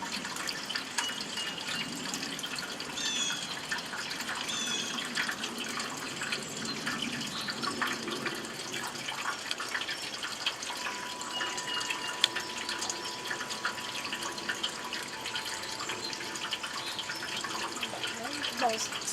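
Tap water runs steadily into a sink while garden lettuce is washed, a faint continuous splashing and trickling with small drips throughout.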